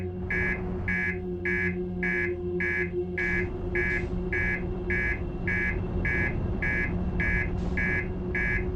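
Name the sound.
alarm beeping in the video game Outer Wilds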